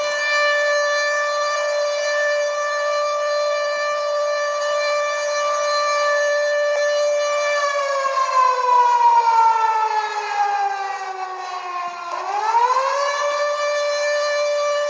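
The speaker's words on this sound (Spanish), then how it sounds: "Luego tengo aquí una de explosión nuclear." Civil defense siren sounding a nuclear explosion warning, a loud steady wailing tone that holds level, then slides downward and swoops back up near the end, heard alone with no voices.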